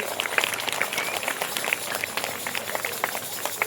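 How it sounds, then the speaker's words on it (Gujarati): Schoolchildren at a school assembly clap for a boy in a brisk, scattered round of applause, the claps dense and fairly close throughout. "વેરી ગુડ તાળી પણ ભાઈ માટે"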